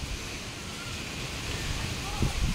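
Strong storm wind roars steadily across the microphone at a resort in Baclayon, Bohol, a dense rushing noise with low buffeting gusts toward the end.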